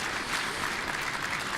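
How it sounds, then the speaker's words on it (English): Audience applause at an early childhood education meeting, a steady dense clapping that holds at even loudness throughout, close and continuous with no voices over it. "We'll give her a round of applause"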